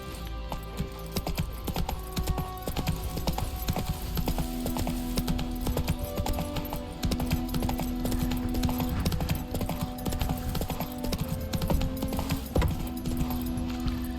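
Horse hooves clip-clopping at a run in the video game Witcher 3, a steady rhythmic beat under music and ambient game sound, fairly close and moderate in level.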